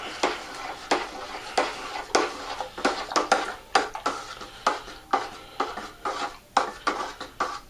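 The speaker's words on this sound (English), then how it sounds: "I'm going to stir this really, really well" A 5-gallon batch of wine kit must stirred hard in a primary fermenter, rhythmic sloshing swishes and knocks repeating roughly twice a second, loud and close with no talking.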